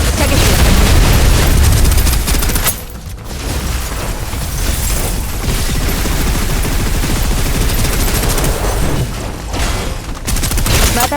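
Sustained suppressive gunfire in the video game Snowbreak, dense continuous bursts of loud shots and booms that briefly drop off and then resume, with no talking.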